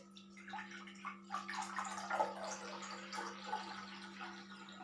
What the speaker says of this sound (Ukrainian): Я поки що відкладу апельсин та налью води у нашу ємність.